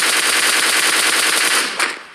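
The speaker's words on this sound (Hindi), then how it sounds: "टीम नंबर 15 और 14 के बीच में भी फायरिंग हो रही है" Rapid automatic gunfire in the mobile battle royale game PUBG Mobile, a loud continuous burst of closely spaced shots that ends with one final crack and a brief tail.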